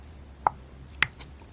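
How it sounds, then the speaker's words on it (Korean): Two crisp knife chops through a block of Spam on a cutting board, spaced about half a second apart, close and clean over a quiet kitchen background. "스팸은 3등분 합니다."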